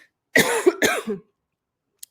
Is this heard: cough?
yes